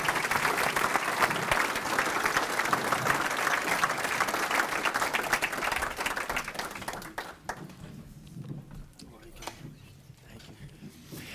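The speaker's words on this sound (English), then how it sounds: "So let's give a big round of applause for our next inductee, Angel Cirillo Jr." A crowd at a 2017 school athletic hall of fame induction applauds loudly for an inductee, steady dense clapping that fades and thins out toward the end, leaving scattered claps.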